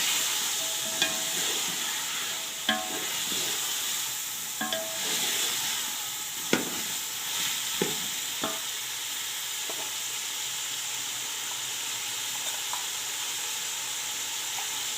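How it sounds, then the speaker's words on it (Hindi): Cauliflower fries for aloo gobi curry in an even, close sizzle, broken by sharp clacks of a spoon stirring against the pan every couple of seconds, with no talking. "गोभी को अच्छी तरह भूनते हैं 4 से 5 मिनट तक।"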